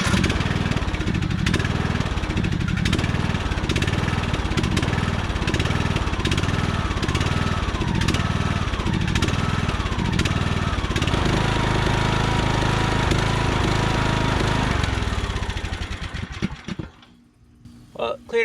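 A Craftsman LT2000 lawn tractor engine running rough after sitting dry, a loud choppy sputter with uneven pulsing beats that carries on steadily before cutting out near the end, with no speech over it.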